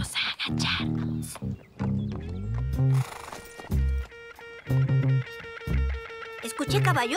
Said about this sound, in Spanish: Creí oír caballos.